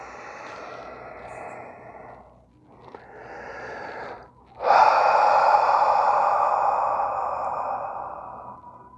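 Breathing during a yoga flow: a couple of short breaths, then one long, steady, close exhale lasting several seconds as the body folds forward.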